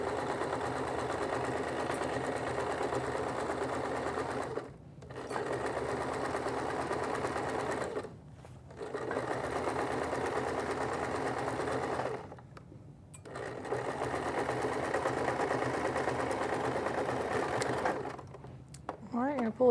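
A sewing machine running in long steady bursts while back-stitching an apron, stopping briefly between runs, close and loud with a person speaking over it.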